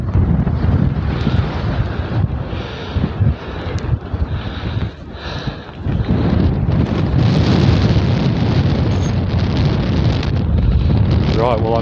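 Strong wind roars across an exposed rocky hilltop at Bleaklow Stones in the Peak District, buffeting the microphone in heavy rumbling gusts that barely ease for the whole stretch.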